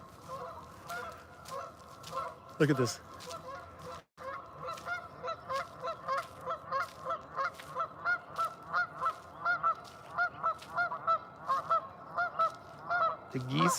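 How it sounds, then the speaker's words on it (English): Many geese honk repeatedly in a steady, rhythmic chorus from a short distance, with a brief spoken comment partway through. "Can you hear the geese?"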